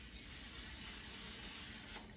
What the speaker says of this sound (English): I will spray the inside of the basket with a non-stick cooking spray